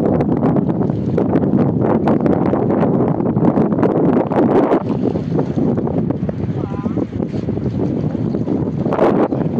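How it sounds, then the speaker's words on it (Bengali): Strong wind sweeps across a river bank at Jharkhali in the Sundarbans, a loud, continuous low rumble and buffeting against the microphone, with a faint voice briefly audible beneath it. "আর এই পার দিয়ে যে হাওয়াটা হচ্ছে এমন হাওয়া"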